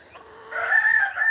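Small young hens kept in a greenhouse cluck and chatter briefly at close range, a short burst of fowl calls rising in loudness with no talk over it.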